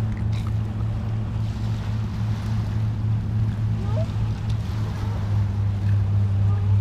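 A fast speedboat passes on open water, its steady low engine drone continuous and fairly loud throughout alongside wind and water noise.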